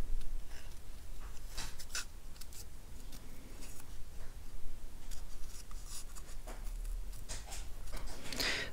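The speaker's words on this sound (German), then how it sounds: "wenn man das Papier in der Schere hin und her schiebt" Scissors cutting paper for a small self-closing box, a close run of irregular snips and rustling paper scrapes lasting several seconds, with no voices.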